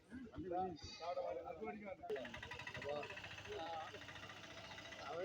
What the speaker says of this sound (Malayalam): രണ്ട് മുട്ടനാടുകൾ നല്ല ചെവിറക്കമുള്ള നല്ല രണ്ട് മുട്ടനാടുകൾ തന്നെയാണ്